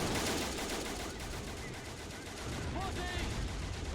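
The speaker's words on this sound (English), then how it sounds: "Also taking some fire from some mortars as well." Gunfire and mortar fire in the Army Men of War video game during a huge winter field battle, dense crackling shots forming a continuous din, with a brief whistling tone late on.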